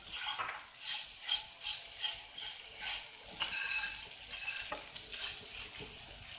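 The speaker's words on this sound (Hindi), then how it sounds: "काली मिर्चें और चीनी, ये डाल के हम इसको मिक्स करेंगे कि चीनी भी मिक्स हो जाए, सारा कुछ मिक्स हो जाए।" Black pepper and sugar being stirred into mutton rice in a pot: continuous scraping, clinking spoon strokes against metal with a soft sizzle beneath, steady and close, alone without talk.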